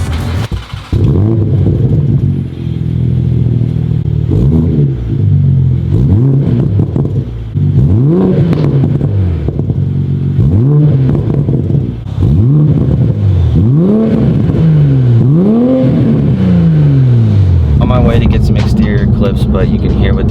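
A Toyota Supra with a 5-inch titanium single-exit exhaust and stock downpipe revs repeatedly, each blip rising and falling in a loud, close series of about eight pulls over a steady idle.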